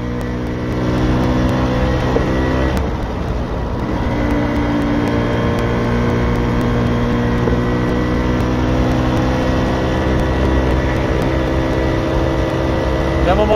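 Vespa PK 50 S Elestart scooter fitted with a 130 cc DR kit, its engine running steadily and close by with a constant low harmonic drone for the whole stretch, a voice talking over it.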